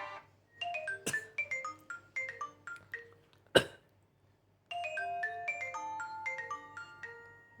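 The default ringtone on a Nokia Lumia 635 phone plays as a bright plucked melody of quick notes, pauses briefly after a sharp click, then resumes, clear and close with no voices.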